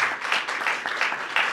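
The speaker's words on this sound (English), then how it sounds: "Give these kids another round of applause." Audience applause for schoolchildren at an event with the President, a dense, steady patter of many hands clapping at moderate loudness with a few sharper peaks and no speech over it.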